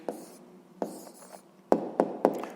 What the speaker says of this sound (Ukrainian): Записуємо відповідь.